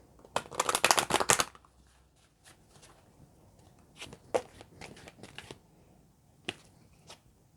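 Tarot cards being shuffled by hand: a loud burst of riffling at the start, then several softer, scattered card flicks and taps, close by with no talking.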